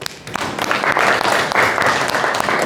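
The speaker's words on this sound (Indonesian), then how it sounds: "Oke, aplaus." Applause in a school classroom, a dense wash of clapping from a group of students that swells after a moment and holds steady, fairly close and loud, with no talk over it.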